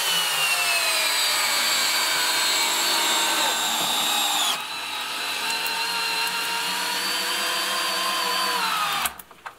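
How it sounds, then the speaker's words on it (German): Three cordless drill-drivers drive screws together in a high, whining whir that changes pitch midway, then stops abruptly near the end with a few clicks. "Aber jetzt tun wir da einfach mal die Schraube reindrücken."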